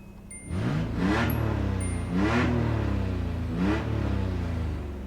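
A Nissan Z31 with exhaust leaks starts and idles, then is revved three times; each rev rises and falls in pitch over a rumbling idle, recorded close and without talk.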